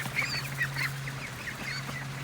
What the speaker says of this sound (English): See all the duckies?